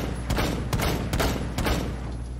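Gunfire in the video game Rainbow Six Siege comes as four or five sharp bursts spaced roughly evenly, moderately loud over steady background game noise, without speech.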